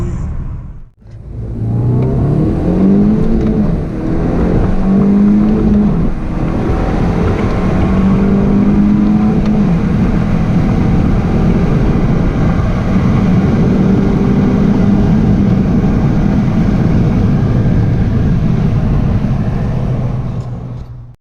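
A VW Mk6 Golf engine pulls hard in first gear, a loud, steady drone climbing in pitch with a brief dip near the start, close up and without talk.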